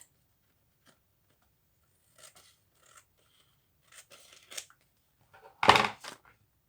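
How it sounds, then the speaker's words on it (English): Scissors trim the top edge of a paper page with a few faint, sparse snips, then one louder, closer crisp cut near the end. "Just line it up, and then I just trim off a little bit at the top."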